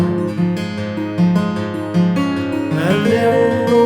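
Fingerpicked acoustic guitar accompaniment for a song, matching the introduction's pattern, with a steady bass line under ringing melodic notes, close and clear, no voice.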